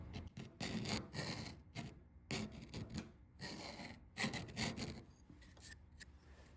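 A file worked across a soft aluminum piece in long broad strokes, a rhythmic rasping scrape repeating about every second with brief pauses between passes, close and quiet.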